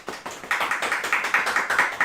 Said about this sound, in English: Can I please have a warm studio round of applause for our lovely interview with